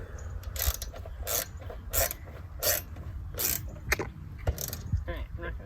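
A ratchet tightens bolts on a motorcycle sissy bar in short repeated bursts of clicking, close and fairly loud, separated by brief pauses with some handling noise.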